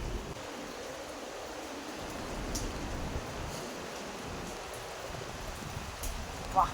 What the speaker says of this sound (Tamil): மழை செம்ம மழைங்க.